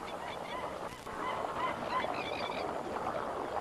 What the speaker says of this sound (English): birds congregate here in enormous numbers.